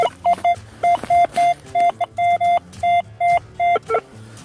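Repeated short electronic beeps from a metal detector, about a dozen in an irregular rhythm, bright and close, with faint rustling and digging noises between them in a forest.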